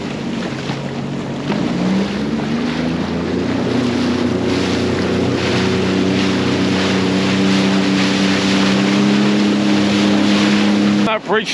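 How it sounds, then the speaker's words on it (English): A motorboat engine drones steadily close by, its pitch holding level and slowly rising, with wind buffeting the microphone throughout. "Boat."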